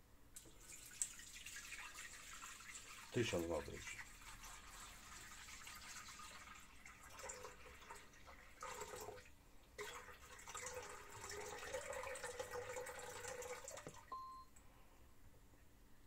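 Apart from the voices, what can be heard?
water being poured into a Lidlomix mixing bowl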